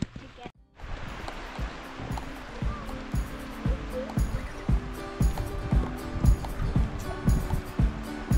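A small waterfall pours into a natural rock pool in Eskdale in the Lake District, a steady close rush of falling water that runs throughout with a few low bumps underneath.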